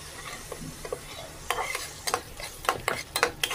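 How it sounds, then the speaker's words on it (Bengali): A spatula scrapes and knocks through a paste of ground poppy seed and mustard frying in oil for fish kalia, with sharp irregular clatters over a faint sizzle, close by and without talk. "এবার এটা আমি আবার কষাবো, আর সেই পোস্ত আর সর্ষে যে বেটে রেখেছিলাম সেটাই দিয়ে দিলাম"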